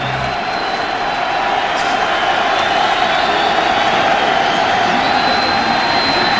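A large NFL stadium crowd at a Bengals–Buccaneers game in Tampa roars in a steady, dense wash of cheering that fills the whole stretch at constant loudness, with no distinct voices standing out.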